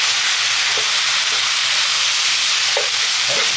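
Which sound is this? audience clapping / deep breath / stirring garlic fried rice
stirring garlic fried rice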